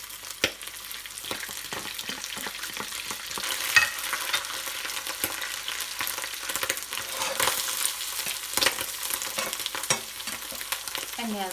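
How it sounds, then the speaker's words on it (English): Squid hits hot oil in a wok for Hakka-style cooking, frying with a dense, crackling sizzle and scraping stirs throughout, fairly close and steady with no talk. "Once the oil is hot, then add your squid."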